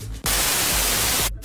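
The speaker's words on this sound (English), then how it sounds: "So then I'm going to change it to white noise." White noise from the Ableton Live Operator synth, a loud steady broadband hiss switched on abruptly and cut off about a second later, with faint hum before and after.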